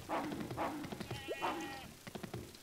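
Goat bleating in Minecraft, several short nasal bleats spaced through the moment, fairly faint with game sounds around them.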